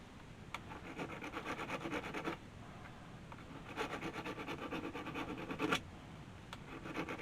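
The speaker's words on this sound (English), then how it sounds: "Basically, I'm just filing on the toggles of the switch so I have something to grab to." A file rasps against the metal toggle switches inside a cab-over truck. The scraping comes in close, quick back-and-forth bursts separated by short pauses.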